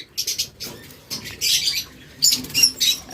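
A blue opaline pair of lovebirds flutters in a cage, with bursts of wing flapping and scrabbling interspersed with brief chirps, in short irregular clusters at close range.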